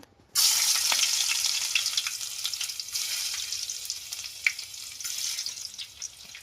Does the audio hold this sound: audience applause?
no